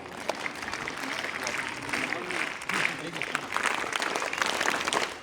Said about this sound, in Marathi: जोरदार टाळ्या वाजवायच्या त्याच्यासाठी।